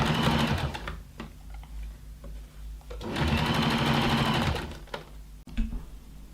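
A sewing machine stitches a side seam on a leather cocoon skirt in two loud, close bursts of rapid mechanical whirring, separated by short pauses with small clicks.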